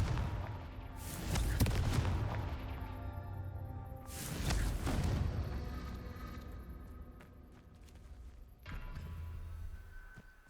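Confringo blasting-spell explosions in the Hogwarts Legacy game, with two big booming bursts early on, then a lighter blast near the end over a low rumbling backdrop.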